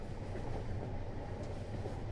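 A Metrolink commuter train runs on rails through the Chatsworth neighborhood of Los Angeles, a steady dense low rumble of wheels and cars, continuous and close, with no voices.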